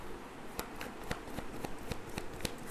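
Tarot cards being handled and shuffled, a steady run of soft papery riffles and flicks with sharper card snaps spaced through it, close and fairly quiet, no talking.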